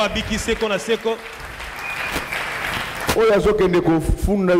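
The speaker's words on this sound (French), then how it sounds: "Acclamons très fort pour le roi." A church congregation claps under a preacher's loud amplified French speech; the applause stays in the background as a steady patter beneath the voice.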